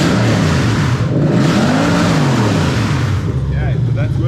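A Lexus IS200 with a swapped 1UZ-FE VVT-i V8 runs loud and close, its engine note rising and falling through a rev before settling, with a voice talking over it.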